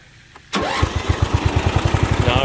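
A warm 1986 Simplicity 5211 Landlord lawn tractor engine catches after a brief crank and settles into a steady, loud, close idle, its rapid regular firing thumps running to the end.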